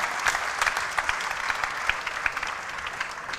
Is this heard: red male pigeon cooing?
no